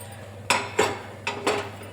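A kitchen pressure cooker lid is set and closed, giving several sharp metallic clinks and clanks of pots in quick succession, close and fairly loud, with no talk.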